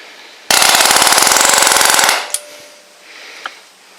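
A Grip Rite GRTMP16 mini air nailer drives a 3-inch nail into wood with a loud, rapid machine-gun-like burst of impacts lasting about a second and a half, followed by a short hiss and a couple of faint knocks.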